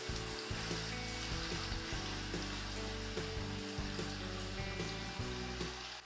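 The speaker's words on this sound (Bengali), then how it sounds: "পেঁয়াজগুলো একদম গোল্ডেন ব্রাউন করে ভেজে নিতে হবে।" A large batch of chopped onions fries toward golden brown for chicken biryani, giving a continuous dense sizzle and crackle at a steady level with faint knocks underneath.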